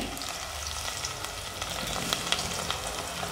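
Raw prawns frying in a pan over softened cooked onions, a continuous close sizzle with faint crackles and pops and no talking.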